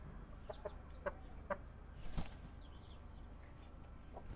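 A rooster clucks in a farmyard, several short soft clucks spaced out over a few seconds, fairly faint with quiet rustling in between and no talk.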